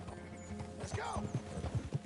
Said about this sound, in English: That horse don't listen.